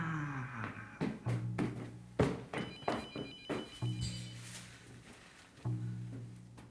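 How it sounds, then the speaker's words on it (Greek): Indoor telephone ringing in a steady run of repeated electronic trills and rings, with a few soft thunks among them, moderately quiet and with no talk over it. "Έχει τηλέφωνο."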